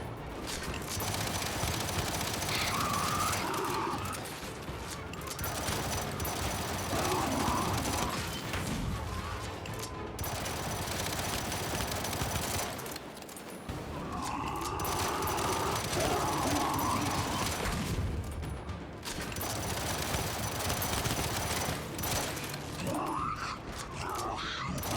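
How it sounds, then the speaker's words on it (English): Sidearm fire in Gears 5 during a campaign firefight, a long stretch of dense, clattering shots and mechanical noise running almost without pause, loud and close, with brief lulls between bursts. "I'm just going to use my side weapon and save a little ammo."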